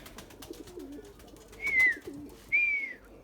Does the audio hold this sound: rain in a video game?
no